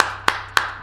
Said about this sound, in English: because that clap is obviously applaud and an applause or praise.